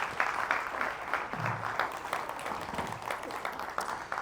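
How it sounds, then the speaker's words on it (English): An audience gives a round of applause for a young girl invited onstage at a mind-reading magic show, a moderate wash of clapping with a voice briefly audible beneath. "Give her a round of applause, everybody."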